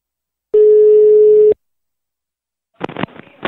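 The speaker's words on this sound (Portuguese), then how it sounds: "eu vou ligar agora pra Nerides" A telephone call tone sounds once as a loud steady hum for about a second, followed by silence and then the click and rustle of the line being picked up.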